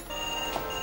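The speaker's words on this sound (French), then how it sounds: "Suzy, tu réponds au téléphone, ma chérie." A telephone rings once in a hair salon, a short electronic tone over a steady background hum, close and moderately loud.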